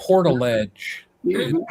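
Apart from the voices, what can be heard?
No everyday noises stand out.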